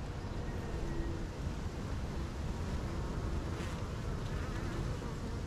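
Honey bees swarm over a hive frame during an inspection, a dense, continuous close buzzing that holds steady throughout with no talking.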